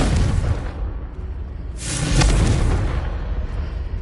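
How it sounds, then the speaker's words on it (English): Confringo spell blast in Hogwarts Legacy on PS5, a single booming explosion that swells midway through a steady rumbling game background and then fades back down. "Confringo."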